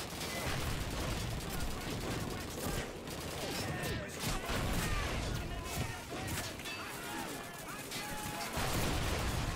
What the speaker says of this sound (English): Dude, they're shooting me.